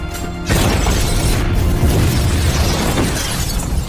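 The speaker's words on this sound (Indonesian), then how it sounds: "Santino mengambil sebuah RPG untuk meledakkan rumah John." An RPG explosion blows up John's house in a film. A short quiet lead-in gives way to a loud, sustained blast roar, with crackling debris running through it until the end.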